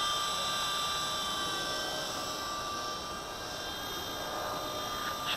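The electric motor of a small v913 RC helicopter runs with a steady high-pitched whine and a constant whirring drone, fairly quiet and unbroken for several seconds.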